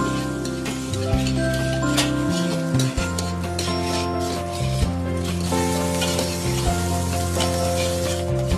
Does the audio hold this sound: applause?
no